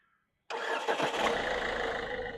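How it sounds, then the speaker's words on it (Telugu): A 2016 Ford Aspire diesel car engine cranks and catches on the first try, then settles into a steady, fairly close idle with a grainy diesel clatter and no talking. "సింగిల్ సెల్ఫ్లో బండి స్టార్ట్ అవుతుంది"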